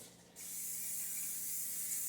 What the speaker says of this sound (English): I'm using olive oil spray